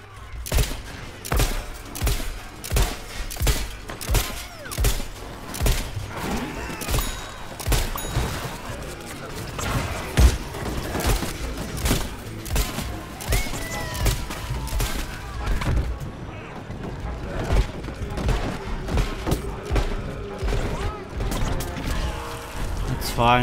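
Gunfire in the video game Plants vs. Zombies Garden Warfare: repeated bursts of rapid cartoonish shots and impacts throughout, with players talking at times.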